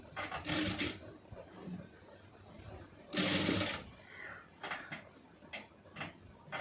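A sewing machine stitches a puff sleeve in short, start-stop bursts, a couple of longer runs among brief ones, quiet and close with faint handling noise between.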